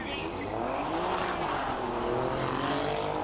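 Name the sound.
Jaguar E-Pace 300 accelerating at hillclimb race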